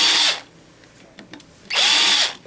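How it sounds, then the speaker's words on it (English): A power drill fitted with a 5/64-inch bit whirs loudly into wood in two short bursts, a high whine at the start and another near the end, with a quiet pause between. "I'm just going to drill a 1/16 of an inch into the wood"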